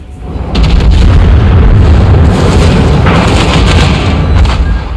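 Destroyer gun salvos burst around a ship in a naval battleship game, a tier 5 German König, heavy rumbling booms merging into one loud, continuous roar that starts suddenly and rolls on for several seconds.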